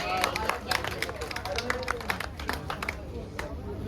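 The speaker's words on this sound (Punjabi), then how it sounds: "ਤਾਲੀਆਂ ਜ਼ਰਾ ਜ਼ੋਰਦਾਰ ਹੋਣੀਆਂ ਚਾਹੀਦੀਆਂ" An audience claps at a prize distribution at an agricultural expo in Ludhiana, a scattered round of hand claps with crowd murmur and talk underneath, fairly faint and distant.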